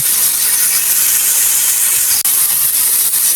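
A loud, steady hiss of an egg frying in a hot pan with cabbage and ginger fills the whole stretch, broad and continuous with no voices.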